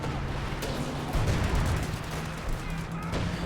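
Explosions and gunfire in a WWII strategy video game battle with a Churchill tank, heard as a dense, continuous rumble of booms and sharp shots, with a commentator's voice faintly under the din.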